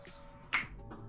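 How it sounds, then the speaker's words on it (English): A single crisp finger snap, close and sharp, standing in for applause during a playful livestream, over a faint steady background hum. "instead of clapping, we all click our fingers"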